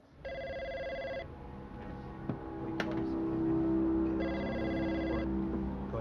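A telephone bell ringing in two separate bursts, loud and near, with a hum and a brief click between the rings.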